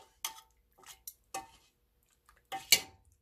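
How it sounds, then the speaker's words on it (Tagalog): Chicken curry being stirred in a pot, with a handful of separate spoon-against-metal clinks and scrapes spaced through a short, otherwise quiet stretch, the last one the loudest. "Haluin natin ang ating chicken curry."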